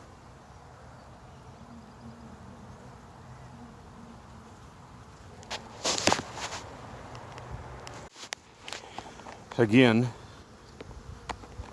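Honey bees buzz steadily around an open hive during an inspection, a close, continuous drone with louder swells as bees pass near, while a person speaks briefly.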